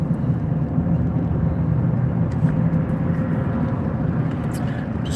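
A car drives steadily on the way to the gym, with an even low road and engine rumble heard from inside the cabin throughout and no spoken words.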